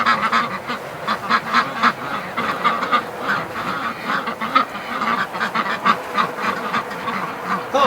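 A flock of ducks in a barn at -33°C quacks continuously and loudly nearby, many calls overlapping in a busy, chattering chorus with no voices.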